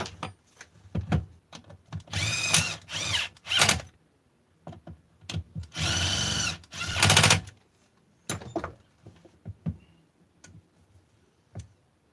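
Bolts being driven on a Husqvarna 288xp chainsaw crankcase, 55mm case bolts, as a tool runs in several separate bursts with rapid clicking and ticking in between, close and fairly loud.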